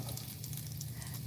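Bacon frying in a pan, a soft, steady sizzle with a low hum underneath, heard alone for just over a second.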